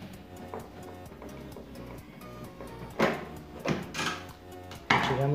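A Phillips screwdriver works on the terminals of a microwave oven under repair, with a few sharp metallic clicks and clanks of metal parts and tools among quieter handling noise.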